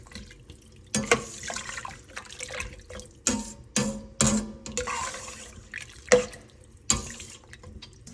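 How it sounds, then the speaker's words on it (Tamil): Water poured from a cup into a pot of rice for pulao, several separate splashy pours with short gaps between them, close and moderately loud with no talking. "ஸோ நான் 3 கப்பு தண்ணி இதில் சேர்க்குறேன்."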